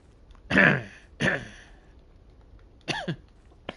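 Three or four short, harsh coughs or hiccup-like throat bursts from a person, close and fairly loud, separated by brief pauses, with no speech around them.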